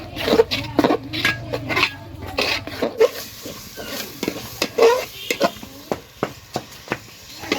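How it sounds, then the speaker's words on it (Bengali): Spices with turmeric powder and salt fry and are stirred in a pan over a clay stove while goat meat is cooked down, with repeated scraping strokes and a soft sizzle, close and clear. "হলুদ গুঁড়া অল্প করে নুন সুন্দর মতো কষায় নেব"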